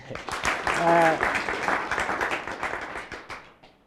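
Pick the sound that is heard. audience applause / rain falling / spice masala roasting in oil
audience applause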